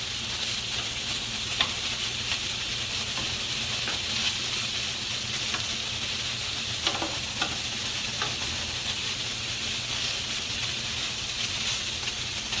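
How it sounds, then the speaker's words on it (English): Sausage sizzles in a pan that will take peppers and onions, a loud continuous hissing fry running evenly throughout with a few faint utensil clicks. "And when the sausage is ready, I'm going to add the peppers and onions back to it."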